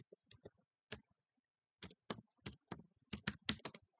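Computer keyboard typing during C programming work, quiet and close, in short irregular bursts of clicky keystrokes separated by brief pauses, with no one talking.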